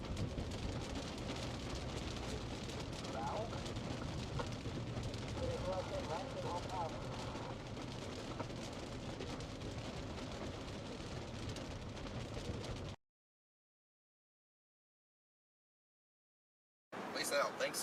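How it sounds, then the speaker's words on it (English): Torrential rain pours during a storm at a car wash in Newkirk, Oklahoma, a steady loud broadband roar that cuts off abruptly, then returns briefly after a pause of silence; a voice speaks over it. "Some torrential rainfall happening here in On the car wash."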